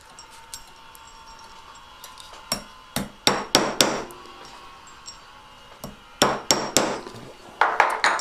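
Hammer taps on a metal ring pendant being shaped round, sharp metallic strikes in irregular clusters of two to four, fairly close and clear with quiet pauses between, no voices.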